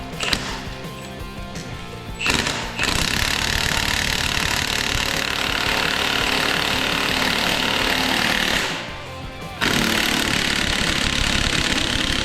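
A twin-turbo Camaro SS engine runs loud and steady at close range, a dense continuous roar that briefly drops off twice before returning at full strength, with no voices.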